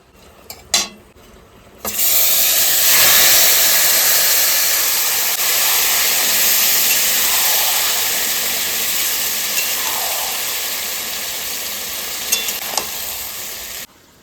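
Marinated goat meat drops into hot oil in a kadai for village-style cooking, a couple of soft knocks giving way to a loud, steady, close sizzle that holds to the end.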